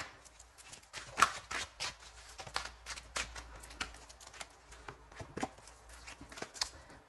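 Tarot cards shuffled by hand in a quiet room, a soft, close flutter of riffles and taps in irregular bursts, faint overall.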